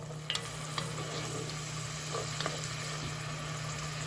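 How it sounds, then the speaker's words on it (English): White wine reduces in a hot pan while cooking chickpeas with cavolo nero, a soft steady sizzle and bubbling hiss with a few faint clinks, close and continuous. "I'm just going to let the white wine reduce a bit."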